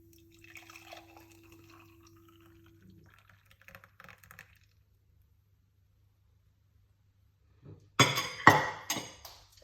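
After a long near-silence with faint handling noises, pineapple detox drink splashes briefly into a glass with a few clinks near the end.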